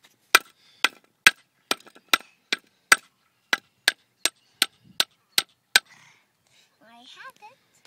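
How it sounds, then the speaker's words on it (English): A child hammering with a tool from a toy tool belt: about a dozen sharp, evenly spaced blows, close and loud. A faint voice follows at the end. "I'm hammering."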